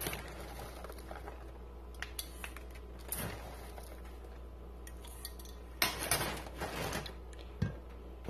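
A metal spoon scoops urea into water while thickened dye for fabric painting is mixed, giving faint, scattered clinks and soft scraping against a quiet background, with one louder clatter near the end and no voices.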